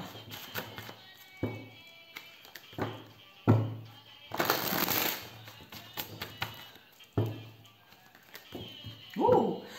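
Tarot cards being shuffled and drawn, with soft taps and card slaps, one longer riffling burst in the middle, and faint scattered handling noise.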